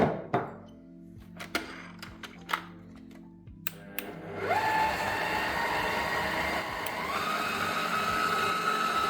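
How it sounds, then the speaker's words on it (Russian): A few clunks and knocks give way to an electric blender whirring steadily as it whips egg whites with sugar, its motor hum rising slightly in pitch partway through. "Так, добавляем белки в чашу блендера. Добавляем сразу сахар. И начинаем взбивать."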